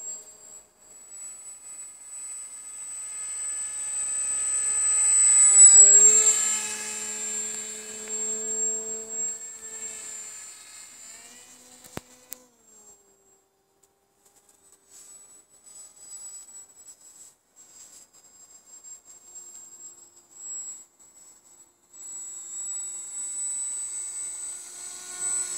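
Small electric motor of a depron pusher RC model airplane at half throttle, a thin high whine that swells loudest as it passes near, then fades into a steady distant drone.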